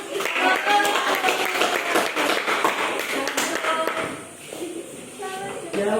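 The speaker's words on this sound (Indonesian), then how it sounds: "Oke, berikan tepuk tangan." A school class gives a round of hand clapping, a busy patter of many claps that thins out toward the end, with a voice talking over it.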